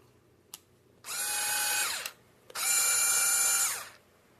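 A Hyper Tough 4-volt lithium-ion cordless screwdriver whines in two close, roughly one-second bursts, each with a high motor tone that spins up and winds down, preceded by a faint click.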